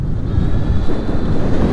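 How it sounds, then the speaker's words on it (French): Strong wind buffets the microphone on a Dualtron Thunder III electric scooter, a loud continuous low roar with gusty swells for almost two seconds and no voices. "Quand j'ai dit qu'il y a énormément de vent, c'était pas des lol en fait."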